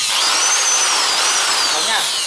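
A Bosch GSB 550 electric drill bores continuously at high speed, a loud, close, whining buzz that holds steady throughout with a slight pitch waver.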